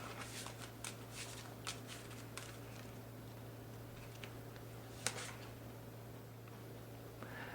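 Tarot cards being shuffled by hand in a quiet room, a run of soft papery riffles and taps with one sharper snap partway through, close and fairly faint over a steady low hum.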